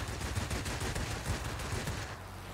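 Rapid, continuous aircraft machine gun fire from a fighter plane in an air combat game, a dense, unbroken rattle at a fairly low level.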